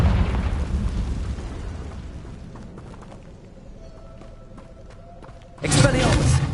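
A Confringo spell explosion in a Harry Potter video game bursts loudly at the end, a sudden roaring blast after a quieter rumbling stretch with voices.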